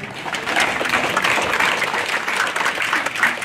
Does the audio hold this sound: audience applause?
yes